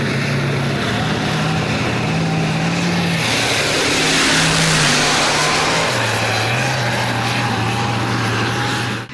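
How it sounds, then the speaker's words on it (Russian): A tank weighing over 40 tonnes, prepared for a tank biathlon exercise in Dagestan, rumbles loudly as it moves to its starting position, with a steady heavy engine roar and shifting low drone throughout, no voices. "С грохотом машина весом больше 40 тонн двигается на исходную позицию."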